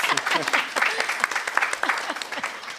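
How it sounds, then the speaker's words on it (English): An audience at a small business summit gives panelists a steady round of applause, dense and fairly loud throughout, with some voices mixed in. "Let's give our panelists a round of applause."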